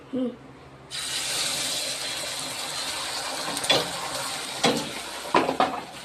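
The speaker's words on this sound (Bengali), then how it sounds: "তাওয়াটা অনেকটা গরম হয়ে গেছে। ডিমটা আমি দিয়ে দিই।" Beaten egg hits a hot griddle coated with butter and bursts into a loud, steady sizzle after a brief pause, with occasional scraping and clinks of a utensil stirring close by.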